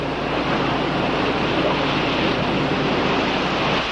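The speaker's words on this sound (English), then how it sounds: "The waves were higher and harder." Ocean waves surge and wash steadily in a dense, continuous roar with a windy hiss and no voices, the water noise filling the whole stretch at a constant level.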